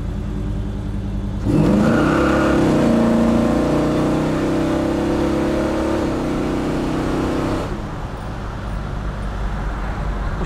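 A 1967 Chevrolet Chevelle SS accelerating hard in a burnout: after a low idle, the engine suddenly roars to a loud, sustained rev for about six seconds, then drops back to a rumbling idle.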